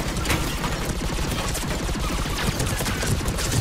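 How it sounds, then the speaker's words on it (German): Rapid bursts of automatic turret gunfire in the video game Mass Effect 3, dense repeated shots rattling continuously and loudly with no talk over them. "Da ist schon wieder so ein scheiß Geschütz"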